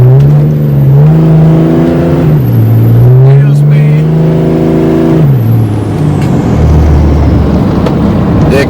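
A 760-horsepower 2005 Cummins diesel truck pulls away from a stop, its engine droning loud and close as it climbs through gears with rising and falling pitch, whistling turbo overhead.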